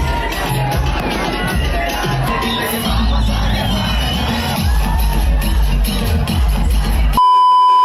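A loud, dense crowd cheers and shouts in celebration after a cake cutting at a Bhim Jayanti gathering, a constant roar of whoops and yells with a few beeps, ending abruptly.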